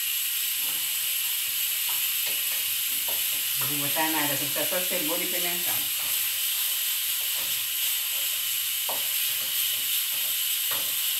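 Beef browns in a pan with bacon and calabresa sausage, giving a steady, loud sizzle and hiss throughout; a brief bubbling stir rises in the middle while someone talks over it.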